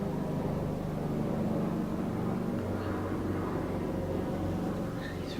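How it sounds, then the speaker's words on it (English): A police helicopter flies low overhead, producing a loud, constant rotor and engine rumble that fills the whole stretch with a steady drone. "I think it might have been the police helicopter looking for illegal substances."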